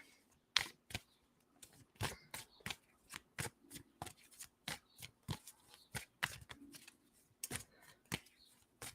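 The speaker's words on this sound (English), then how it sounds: "so I'm going to pull a card for Stacy" Oracle cards being shuffled by hand, a run of crisp riffling slaps in an uneven repeating rhythm, close and clear with no talk.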